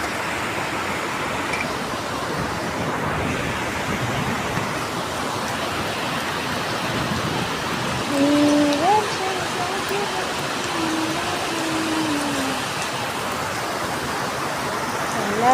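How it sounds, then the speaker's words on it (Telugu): Heavy rain pours steadily in Balanagar, a dense continuous hiss of water running throughout, with a brief louder gust or splash around the middle. "ఎలా పడుతుందో చూడు వాటర్, కంటిన్యూ బీభత్సమైన వాటర్"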